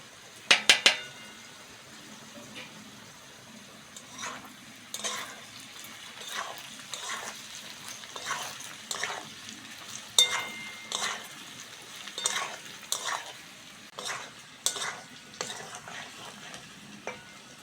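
Taro and potatoes fry in a pan with spices, stirred by hand: soft steady sizzle beneath a run of sharp scraping and clinking strokes of a spatula against the pan, close and fairly quiet, with no one talking.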